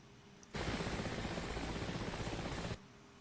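Helicopter rotor in a combat flight video game, the Gazelle, a steady loud broadband whir that starts abruptly, holds for about two seconds and cuts off, with no talk.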